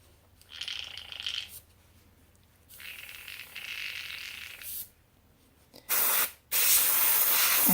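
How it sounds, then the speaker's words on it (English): An airbrush sprays acrylic paint in a few separate bursts of soft hiss, growing louder and brighter near the end, close and with no talking. "mix it up in my airbrush"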